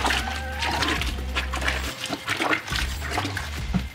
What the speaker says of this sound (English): And again, I'm gonna rinse my brushes.